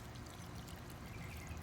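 Rice water is poured from a container onto potted pepper plants as homemade fertilizer, a faint steady trickle of liquid splashing into soil for under two seconds, with no talk.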